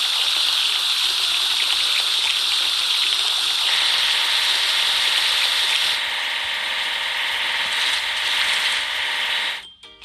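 Water spraying while an earth mover is washed in a children's construction-vehicle game, a steady hissing gush of spray that shifts slightly in tone midway and cuts off abruptly at the end.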